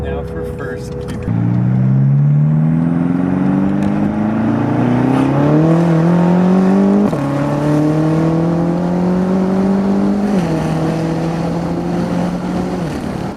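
A tuned BMW F13 M6 running a Bootmod3 Stage 2 map and around 700 horsepower accelerates hard in first gear, its engine note climbing steadily and loudly in pitch with a brief shift dip, heard from inside the car.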